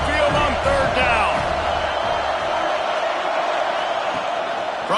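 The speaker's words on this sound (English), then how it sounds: "The Tide crowd rolling noise down onto Saban Field on 3rd down." Crowd roar in a college football video game rolls down on third down at a packed stadium, loud and continuous, with a few bouncing thuds and whoops standing out early.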